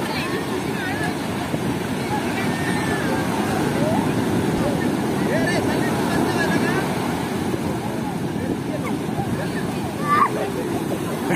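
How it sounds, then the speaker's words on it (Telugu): Big ocean waves at a beach in Konaseema, Andhra Pradesh, a continuous loud roar of surf mixed with gusty wind buffeting the microphone. "మొదటి కెరటాలు అయితే చాలా పెద్ద పెద్దగా ఉన్నాయి ఇక్కడ"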